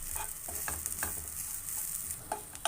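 Grated coconut dry-roasting in a pan, a soft steady hiss broken by light scraping stirs and a few sharper clicks of a spatula, with no one talking.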